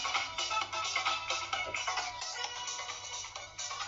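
Music plays from a phone speaker, a thin, bright, tinny melody with a steady pulsing rhythm, heard alone without any voices.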